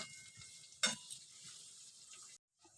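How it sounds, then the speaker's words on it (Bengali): Tomato pieces frying with onions in a pan for a chicken curry, giving a steady soft sizzle with a sharp stirring clatter near the start before the sound cuts out briefly. "আমি কেটে রাখা একটা টমেটো বড় সাইজে দিয়ে দিলাম দিয়ে এই জিনিসটা নরম করার মতো একটু ভেজে নেব"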